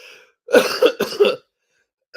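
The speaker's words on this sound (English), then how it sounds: "I'm coughing here." A man coughs in two rough, throaty bursts close to the mic, followed by a short pause and the start of another cough at the end.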